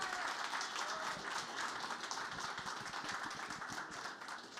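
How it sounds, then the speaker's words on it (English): An audience at a conference talk breaks into steady applause, a dense wash of many hands clapping together that keeps going throughout and is heard from some distance, with no clear voices. "Can we please give him a round of applause?"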